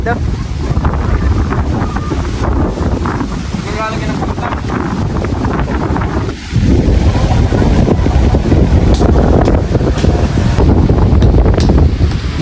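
Strong wind roars steadily across an open fish pond, buffeting the microphone with heavy low rumble and a brief dip midway.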